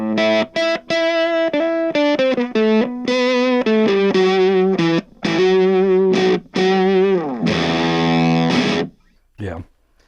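Electric guitar through an EarthQuaker Devices Fuzz Master General fuzz pedal plays loud, thick, buzzing notes and chords in choppy phrases, with a sustained fuzzy chord and a short final stab.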